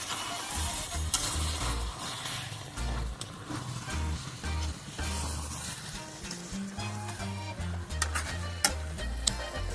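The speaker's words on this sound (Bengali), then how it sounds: "যাতে না লেগে যায় বারবার নেড়ে নেড়ে ভালো করে কষাবো" Chicken kosha, a Bengali-style spiced chicken dish, is stirred and fried in a pan: a spatula scrapes and knocks in a repeated, uneven rhythm over a steady close sizzle, with no talking.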